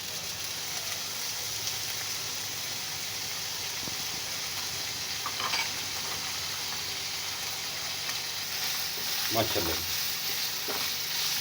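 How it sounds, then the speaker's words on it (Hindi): Chicken fries in hot ghee, giving a steady, moderate sizzle throughout with occasional sharper crackles and stirring scrapes; a voice briefly speaks over it. "इसमें घी डाल दिया, फ्लेम स्टार्ट है, और इसमें हम चिकन फ्राई करेंगे।"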